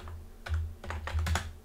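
Quick, close keystrokes on a computer keyboard as a systemctl command is typed, with irregular clusters of taps and no speech.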